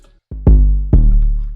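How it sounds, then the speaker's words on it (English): Three deep, booming 808 bass notes hit in an offbeat pattern, each landing hard and decaying with a long, sustained low tail. "Then in the second part I added this little offbeat 808"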